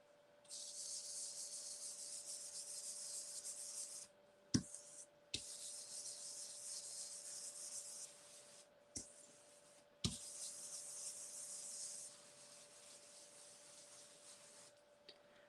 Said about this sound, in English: let's see what happens when I go through it with my stencil brush